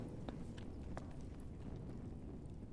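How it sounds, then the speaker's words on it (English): Footsteps in the dark fantasy dungeon game Dark and Darker, soft irregular steps heard faintly at a distance beneath a dense, rumbling ambient game soundscape, with no talking. "but I think I heard a footstep over this way."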